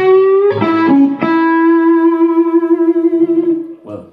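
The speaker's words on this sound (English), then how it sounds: "so the sound we are listening to now is tube free saturation." An electric guitar played through an overdriven transistor preamp with tube-free saturation plays a few quick picked notes, then one long sustained note rich in overtones, loud and close.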